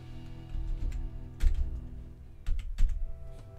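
Someone types on a computer keyboard nearby, a handful of scattered soft clicks and a couple of firmer key taps over a faint background hum.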